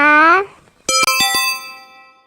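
A short rising tonal blip, then a bright chiming ding made of a few quick bell strikes that ring on and slowly fade.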